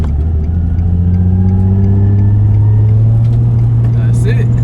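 Nissan 350Z with a no-crank, no-start fault, its engine catching from a rolling clutch start in second gear on a hill, producing a loud, steady close-up drone that climbs slightly in pitch.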